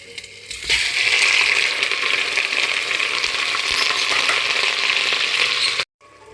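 Meat for a green fava bean stew hits hot oil in a pot, and a loud, dense, close frying hiss builds at once and holds steady for several seconds before cutting off abruptly.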